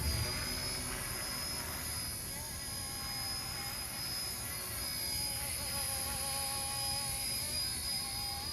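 An RC ERA UH-1 Huey micro helicopter hovers steadily, giving a constant high-pitched motor and rotor whine with a bright tonal buzz that holds evenly throughout, with no talking.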